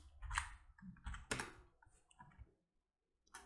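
Quiet, uneven bursts of keystrokes on a computer keyboard while a search word is typed, with short pauses between the clusters of clicks.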